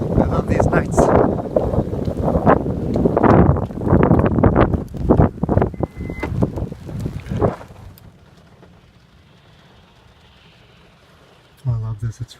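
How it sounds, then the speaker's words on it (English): Heavy rain falls at night on a Honda car with someone sleeping inside, a steady hiss of downpour under close talking for most of the stretch, then quieter rain alone before a brief thump near the end. "Oh, it's raining good."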